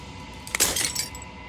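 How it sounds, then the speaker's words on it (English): Glass shattering in the video game Slay the Princess, a single bright crash with tinkling fragments lasting under a second over a quiet, low ambient hum. "As the final fragment of glass shatters, you see yourself with newfound clarity"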